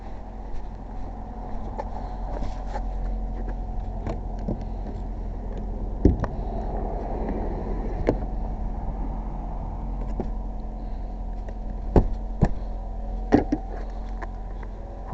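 A Ford Fusion Hybrid engine idles steadily after a jump start, a low continuous rumble heard close by with a few faint clicks and knocks over it.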